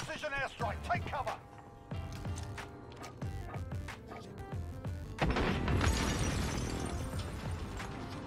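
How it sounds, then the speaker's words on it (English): Enemy precision airstrike in the battle royale game Warzone: a run of sharp impact cracks and thuds, then a heavy, sustained rumbling blast that rolls on loudly to the end. "Enemy precision airstrike, take cover."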